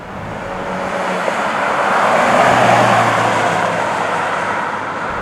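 A Bentley Bentayga cruises quietly through residential streets, heard as a steady, soft broadband drone of road and engine noise that swells gently and then settles, with no distinct events.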